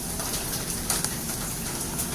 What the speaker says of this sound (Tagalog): Pero umaambon pa din.